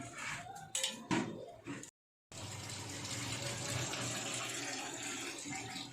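Water poured into a cooking pan while making Bengali-style doi katla, a steady broad gushing pour that runs continuously after a few brief clatters and a short gap, fairly faint and with no talk.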